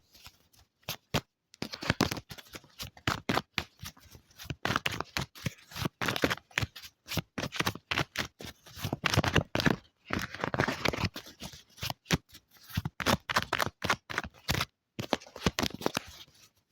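Tarot cards are shuffled again and again, with rapid crisp riffles and flutters in bursts and short pauses between them, close up and alone.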